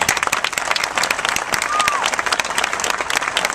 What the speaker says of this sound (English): please give a big round of applause for State Senator Richard Roth